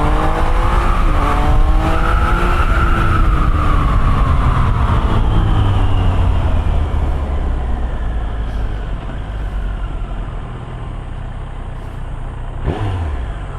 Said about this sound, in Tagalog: Let's try the acceleration.